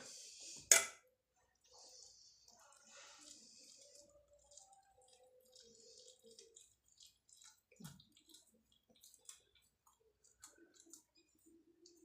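A dough-caked rolling board and rolling pin are rinsed under water in a kitchen. Faint, sparse drips and small splashes are scattered across a quiet background, with one sharp knock near the start.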